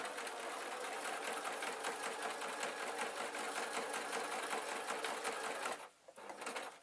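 A sewing machine stitching a peg bag runs steadily and close for about six seconds, a fast even whir that stops abruptly near the end, then restarts briefly.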